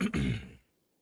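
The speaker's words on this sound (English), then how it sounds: "I coughed at the same time." A single short, throaty cough bursts out up close in two quick pulses and then cuts off, leaving near silence.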